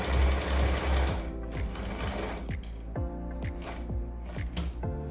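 A Janome 392 sewing machine stitches steadily at close range, with the stitch length being lengthened step by step; its rapid, even mechanical chatter runs throughout and no one speaks.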